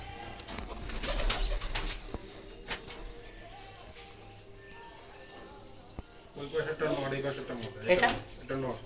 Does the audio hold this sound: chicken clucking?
no